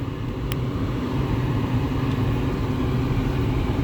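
A 2014 Nissan Sentra with an electric power steering fault, repaired with a used EPS unit, running on a road test, with a steady low engine and road drone from inside the cabin and no talking.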